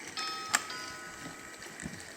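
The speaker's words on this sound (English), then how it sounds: "knocking using the doorbell" A toy doorbell on a Little People play house gives a short, bright chiming ring near the start. It sounds fairly close against quiet background hiss.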